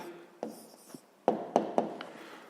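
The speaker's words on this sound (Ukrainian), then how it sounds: "записуємо відповідь" Pen strokes writing down the answer to a grade 6 math exercise on the volume of a rectangular box, a few short scratchy taps and strokes, close and fairly quiet, with no talk.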